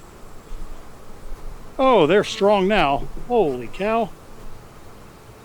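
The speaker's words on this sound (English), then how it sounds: "There are bees in the very top." Honey bees buzz steadily in an opened hive during a farmyard inspection, a constant drone with a voice talking loudly over it partway through.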